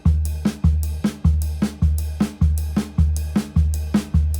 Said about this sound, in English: If you play right left kick between your ride cymbal and your snare drum,